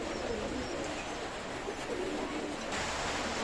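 Pigeons coo softly and repeatedly in a coop, a low murmuring chorus over a steady background hiss.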